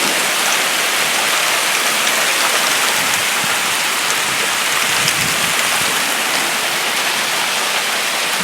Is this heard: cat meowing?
no